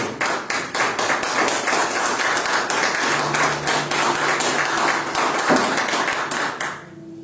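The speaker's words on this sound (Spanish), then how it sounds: "Y un aplauso al Señor" A church congregation applauds together in steady, dense clapping that fills the room for several seconds, with some voices and a low tone underneath before the applause fades out at the end.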